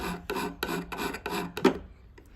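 A hand file sharpens a blade to remove a burr: five even, close rasping strokes in steady rhythm, then one shorter scrape before falling quiet.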